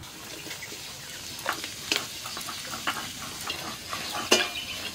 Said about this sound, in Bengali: কড়াই বসিয়ে দিয়েছি, আর এই কড়াইয়ের মধ্যে পেঁয়াজ কুচো দিয়ে দিই।